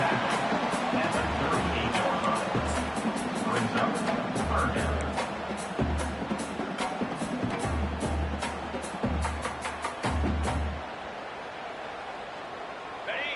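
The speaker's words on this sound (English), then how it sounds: "the noise from this crowd on 3rd and 4" Stadium crowd noise in the College Football 25 video game on a third-down play: a loud, steady roar from the stands with rhythmic low pounding throughout, fading slightly near the end.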